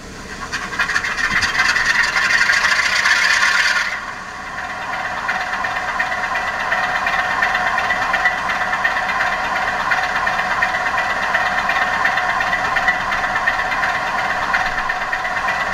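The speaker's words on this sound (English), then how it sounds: "two Class 47s that are working as a double header, 47001 and 47444 University of Nottingham. I'll go through their startup procedure." Two Class 47 diesel locomotives, 47001 and 47444 University of Nottingham, running as a double header give a steady droning engine rumble. A brighter whine sits over it for the first four seconds, then the rumble settles to an even idle with no talk.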